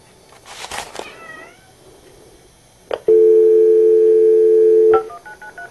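A cat meows several times in a workshop where a lawn tractor motor was just replaced, short rising cries close by, followed by a steady tone and beeps from a telephone.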